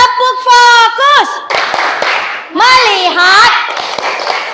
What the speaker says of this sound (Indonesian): mari kita tepuk fokus. Tepuk fokus.